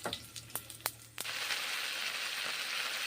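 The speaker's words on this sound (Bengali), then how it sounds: "ভেজে নিচ্ছি এখন রসুনগুলোকে" Garlic cloves frying in hot oil in a kadai, a few sharp clinks at first, then a steady close hiss of sizzling that holds to the end.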